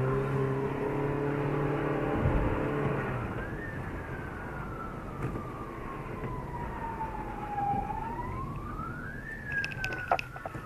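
A police car siren wails during a street chase in Vacoas, Mauritius, its tone sliding slowly up and down over steady traffic rumble, fairly close and loud, with no talk.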